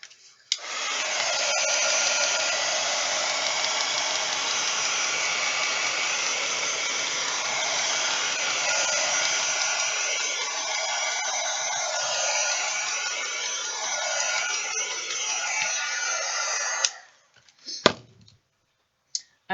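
A hair dryer blows on paint in a steady, loud, airy whoosh that runs for most of the stretch, then cuts off near the end with a few clicks.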